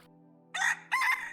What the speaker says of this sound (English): Chicken is a domesticated and most common bird on the planet.